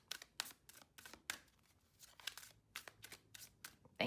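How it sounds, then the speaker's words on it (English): Tarot cards being shuffled by hand, a run of quick papery riffles and flicks in irregular bursts, close and fairly quiet with brief pauses between. "We shall keep shuffling."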